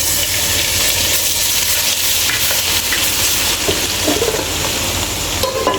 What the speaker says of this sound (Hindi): उसी ऑयल में हम थोड़ा सा मैं लहसुन डाल दूँगी